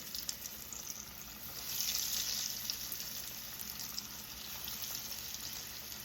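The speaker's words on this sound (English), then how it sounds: "I'm ready to move on to the next step of frying the mozzarella sticks." Steady sizzling and bubbling of mozzarella sticks frying in hot oil at medium-high heat, a continuous crackling hiss that swells briefly partway through, with no voices.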